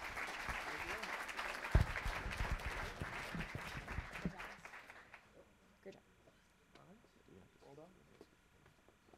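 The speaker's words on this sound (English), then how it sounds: "let's give Insider Biz one more round of applause" An audience claps loudly at a student startup pitch event, sustained applause for about five seconds that fades out, followed by a host talking in a quieter hall.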